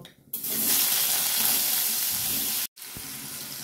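Potatoes frying in plenty of oil with turmeric, a loud dense sizzle that begins abruptly, holds steady for a couple of seconds, cuts out briefly, then resumes.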